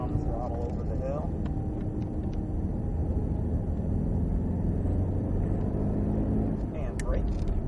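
Cadillac CTS-V engine on the Sonoma race track, a loud low droning roar held steadily throughout as the car pulls on throttle, heard from inside with a voice talking over it.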